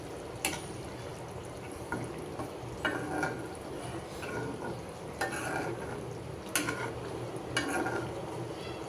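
A spoon stirs thickening curry in a pan on a kitchen stove, giving soft scraping swishes and occasional light taps against the pan over a low, steady background hiss.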